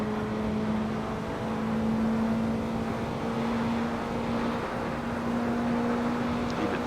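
A Praga R1 race car in the Assetto Corsa racing game holds a steady engine drone with a constant tonal whine, heard close and alone with no talk over it.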